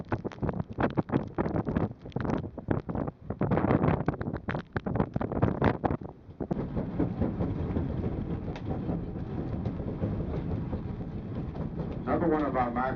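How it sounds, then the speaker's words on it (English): Strong 58 mph wind on Mount Washington in October roars across the microphone as steady, loud broadband buffeting, choppy and gusting in the first half then a continuous rush, with some talking underneath. "58 miles per hour the wind today."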